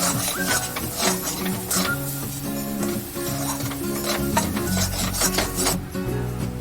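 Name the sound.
stirring and roasting masala with onion-tomato gravy on low flame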